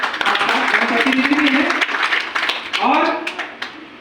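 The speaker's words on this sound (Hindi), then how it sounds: "एक बार जोरदार तालियों से अभिवादन हो" An audience at a public gathering claps to greet Manorama Madam, a former district council member. The applause is dense and lasts throughout, and a voice speaks over it.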